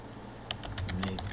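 Brief bursts of quiet typing on a computer keyboard, a handful of close, crisp key clicks in an uneven rhythm over faint room noise.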